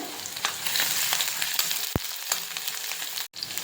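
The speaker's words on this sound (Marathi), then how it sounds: "मिरच्या थोड्या फ्राय झाल्या की नंतर कांदा घालायचा" Green chillies frying with garlic in hot oil give a loud, steady, crackling sizzle with sharp pops and a brief clatter from stirring.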